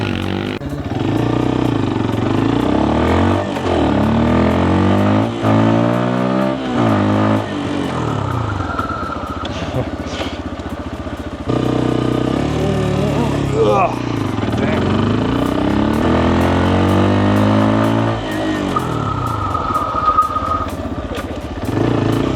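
A small Papio motorcycle engine, geared down a tooth, revs up and shifts through the gears in repeated rising pulls, loud and close, with riders talking over it.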